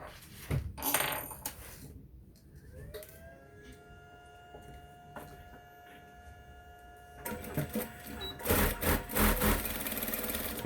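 A sewing machine stitches a 0.2 cm topstitch along the folded edge of a fabric dart bag, running in a steady whir through the middle, with quieter handling knocks before and a louder burst near the end.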